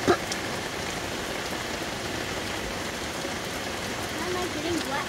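Rain pelts an umbrella in a storm, an unbroken close rush of dense pattering drops, fairly loud and even from start to finish.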